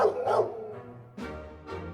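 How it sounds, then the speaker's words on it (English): Doberman dogs bark indoors on a marble floor, a few loud close barks spread across two seconds with short gaps between them. "They sort of run around, slipping on the marble floor. They'll go, speak, and they'll just start barking."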